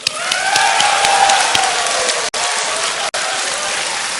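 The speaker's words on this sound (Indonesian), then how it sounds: "Kita berikan tepuk tangan." Audience applause at a televised debate on resolving past human rights cases, a dense steady wash of many hands clapping that fills the space without pause, broken only by two brief dropouts.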